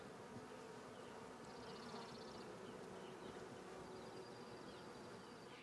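Insects humming over a buggy field on a property in Alaska: a faint, steady drone fills the whole stretch, with a brief buzzing pass near the start and another soft whine later.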